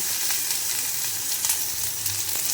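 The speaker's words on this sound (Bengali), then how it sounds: "তেলটা গরম হয়ে গেছে এর মধ্যে দিয়ে দেব পেঁয়াজ কুচি" Chopped onion sizzling in hot oil in a pan, a dense, continuous crackling fry that stays close and steady with no talk over it.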